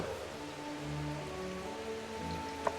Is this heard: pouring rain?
yes